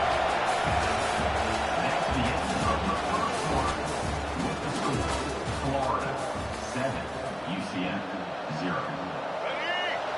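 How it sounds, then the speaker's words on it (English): Football stadium crowd roaring and cheering steadily throughout, a dense, loud wash of voices and noise with a game announcer talking over it. "This crowd bringing the energy and noise early."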